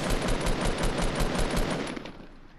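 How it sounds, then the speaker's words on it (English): Rapid automatic gunfire in Fortnite, a loud dense stream of shots rattling steadily for about two seconds before tapering off into quieter game noise. "Somebody else is shooting me."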